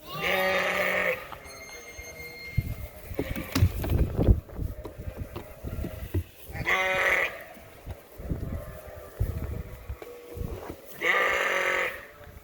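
Lambs just over a month old on a sheep farm bleat loudly in repeated bursts, several animals calling near and far, with shuffling and rustling movement between the calls.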